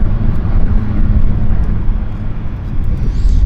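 A fixed-wing airplane at Vancouver airport rumbling loudly and steadily, a broad low roar of engines close by that holds even across the whole stretch, with no talking.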